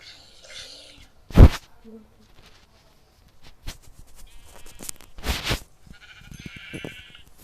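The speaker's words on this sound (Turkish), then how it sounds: "Koyun." Sheep bleat a few times at moderate distance in Minecraft, with quiet game effects and occasional soft voices in between.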